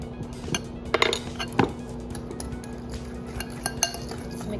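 Mayonnaise is stirred in a bowl, with a spoon clinking and scraping against the dish in a few sharp taps and quieter scrapes over soft kitchen background.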